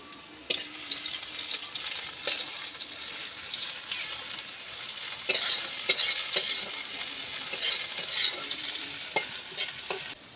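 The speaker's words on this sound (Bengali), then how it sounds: "তেল গরম হয়ে গেছে, এবার আমি পেঁয়াজটা দিয়ে দেবো।" Sliced onion sizzles in hot oil for a mushroom dish, a continuous bright frying hiss broken by occasional spoon clicks and scrapes, with no talk.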